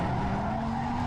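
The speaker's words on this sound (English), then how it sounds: "Oh, nice drift." Tires squeal steadily as a car drifts in Need for Speed Most Wanted, a loud sustained screech with a tonal whine over constant engine roar.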